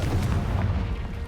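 Confringo blasting-curse explosions in Hogwarts Legacy make a dense, continuous low-end rumble of booming bursts, loud and close throughout with no talk.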